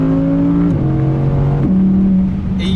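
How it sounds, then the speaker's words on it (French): Audi R8 V10 Performance with a naturally aspirated V10 and seven-speed S tronic gearbox, revving loud and close, its steady engine note stepping up and down in pitch through quick gear changes. "Vous avez vraiment l'essence du moteur atmosphérique qui est là."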